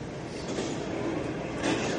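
A train in the Mirror's Edge video game rumbles past steadily, a loud, continuous roar of rail noise that swells slightly near the end.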